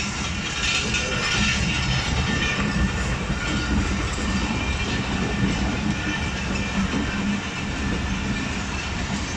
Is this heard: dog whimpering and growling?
no